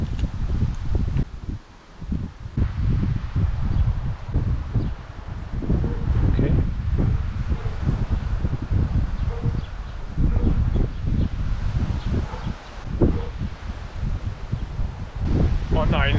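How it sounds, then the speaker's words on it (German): Outdoor wind buffets the microphone during work on a T4 camper van, rough gusty rumbling that rises and falls throughout, with faint rustling and occasional small knocks. "Oh, dieser scheiß Wind, ey."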